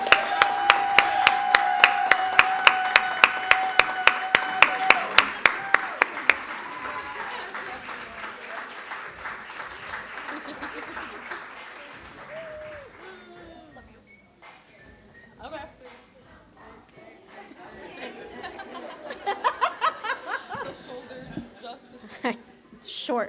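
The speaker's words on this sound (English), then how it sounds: "let's give her a round of applause" Audience at an awards ceremony applauding with steady rhythmic clapping, strong at first and then fading into mixed crowd sounds and chatter before a second burst of clapping swells near the end.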